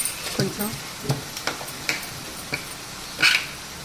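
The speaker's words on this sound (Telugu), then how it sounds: "ఎల్లిపాయలు దంచేద్దాం నాకు చిన్న రోలు ఎప్పటికప్పుడు దంచుకొని వేస్తాను" Garlic pounded in a small stone mortar: a string of sharp, irregular thuds and clacks, close and moderately loud, with a slightly heavier strike near the end.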